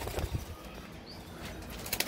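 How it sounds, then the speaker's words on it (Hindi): Pigeons kept in a room below give low, soft coos and brief rustles of wings, faint and close in a quiet space, with no talking. "ये नीचे कमरे में रहते हैं कबूतर"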